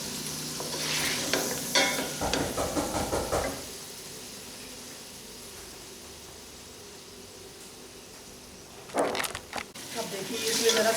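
Mutton paya fries lightly in a pot while being stirred, producing bursts of sizzle and scraping at the start and again near the end, separated by a quieter stretch of low hiss.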